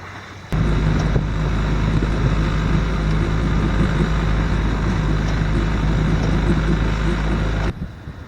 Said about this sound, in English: we're going to be dousing the sails and starting the engine